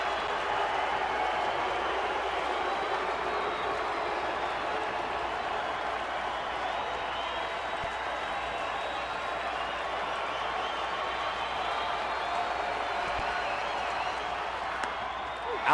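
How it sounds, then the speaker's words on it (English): A large crowd at a night baseball game, Dodgers at Diamondbacks, roars from the stands in a continuous broad wash of cheering that holds steady throughout. "Great crowd tonight. They're coming out of their seats while Allen steps out."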